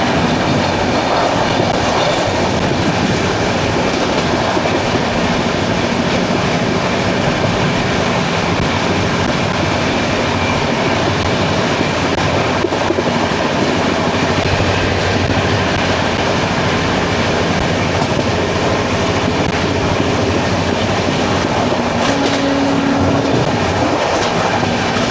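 The 12431 Rajdhani Express runs at speed, a continuous rolling rumble with steady clickety-clack from the wheels over rail joints, heard from on board with no speech.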